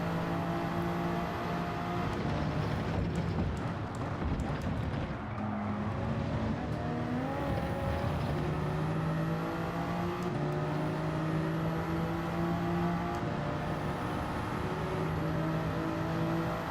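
Race cars drive in the rain at the Red Bull Ring in the Gran Turismo video game, a continuous roar of revving engines with shifting pitch and passing cars, loud throughout.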